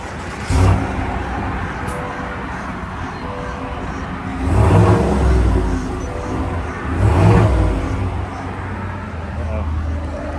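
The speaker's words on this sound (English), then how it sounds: "That's the Corsair exhaust system, sports." A 2024 Cadillac Escalade ESV engine revs up twice through a Corsair sports exhaust with a throaty rise, over a constant background of traffic and road noise.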